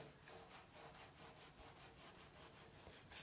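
Rubbing at a sticky label stuck on a toilet, a steady back-and-forth scrubbing with a regular rhythm, close and fairly quiet, with no talk.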